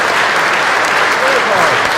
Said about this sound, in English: Let's give these two leaders a big round of applause for what they do.